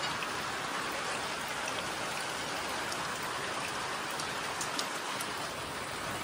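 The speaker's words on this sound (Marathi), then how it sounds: "पावसानं अजून आपली धाव वाढवली" Heavy rain falls steadily as a dense, even hiss with scattered close drops hitting surfaces, continuous and loud throughout, with no voices.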